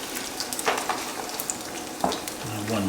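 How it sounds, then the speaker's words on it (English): Chicken pieces hit a hot stainless steel skillet with a steady close frying sizzle and crackle throughout, with a few soft clinks and a brief low hum near the end. "Nice little sizzle."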